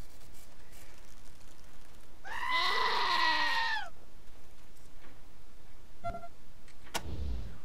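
A goat bleats once in a long, loud, wavering call lasting over a second, then a few brief clicks and a soft thump follow over faint background noise, with no talking.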